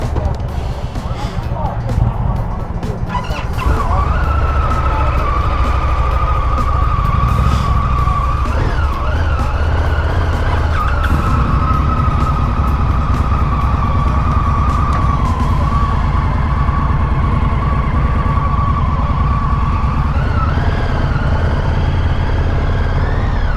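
An Indian FTR 1200 naked motorcycle is ridden on a demo ride. Its engine drones loud and steady close to the listener, with a sustained tone rising and falling as throttle changes, wind roar underneath and a brief voice at the start.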